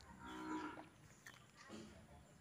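A PO breed cow moos close by, one drawn-out low call followed by a shorter second moo.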